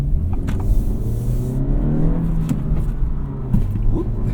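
An Acura Integra's engine runs while driving, a low steady drone with rising and falling tonal sweeps as it pulls, plus brief clicks and mechanical whirs inside the cabin; no one speaks.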